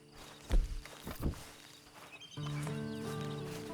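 Horse in the Red Dead Redemption 2 video game, with a few heavy hoof thuds in the first half, followed by a steady sustained tonal game ambience or music bed in the second half.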